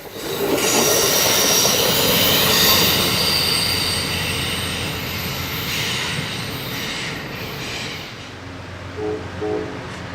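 Amtrak Coast Starlight train crossing the Salt Creek Trestle above a highway, a loud continuous rumble with sustained high wheel squeal that gradually fades, ending in softer rolling noise.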